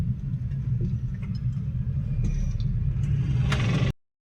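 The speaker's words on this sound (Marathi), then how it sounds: "फुल ट्रॅफिक असते इकडे." Road traffic rumbles close by as a low, steady engine drone with some clatter and a brief scrape, then cuts off abruptly near the end.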